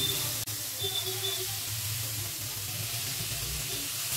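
Chicken kathi kabab fries on a hot tawa, giving off a steady, close sizzle and hiss that holds evenly throughout, with a faint low murmur underneath.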